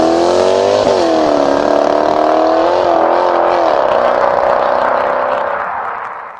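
Supercharged 4.2 litre V8 of a Jaguar XKR X150 revs loud and close, a rich rising and falling engine roar that blips sharply then eases off and fades toward the end.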